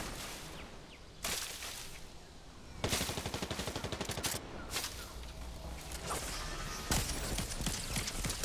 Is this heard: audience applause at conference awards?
no